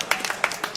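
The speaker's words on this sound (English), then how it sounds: "He gets some actual applause." Audience applause for a guest on a comedy podcast, a brief burst of scattered hand claps. The claps are moderately loud and heard alone.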